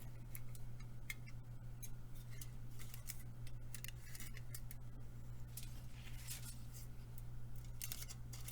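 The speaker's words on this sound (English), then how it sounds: "before you cut the tail out of the aluminum foil" Scissors snip through aluminum foil to cut out a mermaid tail, a run of close, crisp clicking cuts over a constant low background hum, with no voices.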